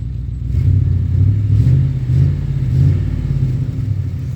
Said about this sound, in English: It does have a bit of an exhaust leak.